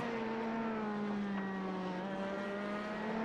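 LMP2 prototype race car engines in a sim racing game, a sustained high-pitched engine whine holding steady then dipping slightly as the cars battle through corners, alone with no commentary over it.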